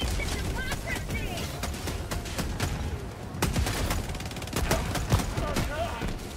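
Automatic gunfire and sentry turret shots in the video game Helldivers 2, during an Automaton invasion defense mission, crack in dense, continuous bursts with sharp spikes throughout, under someone talking.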